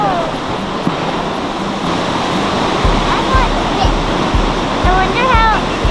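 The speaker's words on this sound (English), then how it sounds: "to see waves like this, like whenever you're close to them" Ocean surf breaks along the Oregon coast, a loud continuous roar and wash of waves close by, with buffeting wind noise and some faint background sounds.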